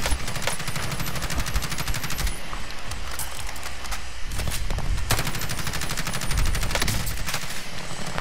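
Gunfire in Call of Duty Modern Warfare, rapid automatic bursts rattling almost continuously, with louder single impacts standing out, close and dense.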